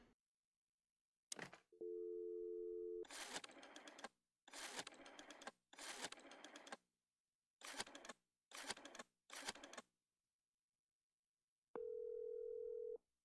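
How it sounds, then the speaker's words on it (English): An old rotary telephone in the game Chicken Police gives a steady dial tone, then several bursts of clicking dial pulses, and a second tone returns near the end, all crisp against silence. "let's make that phone call."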